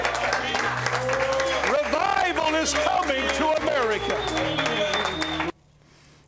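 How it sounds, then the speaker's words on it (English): A studio audience at a Christian revival broadcast claps in praise, a dense layer of applause running beneath a loud voice speaking, then cutting off abruptly near the end. "Give the Lord one more hand clap of praise."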